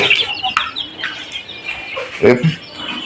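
Young chicken chicks clucking and cheeping in short, irregular calls close by, with a brief louder burst near the end and no talking.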